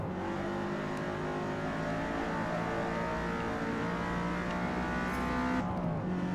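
Steady engine drone of a race car, a Ford GT or Mercedes-Benz 190E 2.5-16 Evolution II, accelerating in Forza Motorsport, with rising harmonic pitch as it gains speed and a brief shift near the end.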